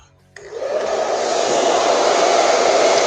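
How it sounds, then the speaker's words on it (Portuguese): A hair dryer set to low speed and hot temperature switches on and runs with a steady, loud whooshing hiss close by, used while brushing hair, with no talking. "Vou deixar o secador na velocidade baixa, temperatura quente."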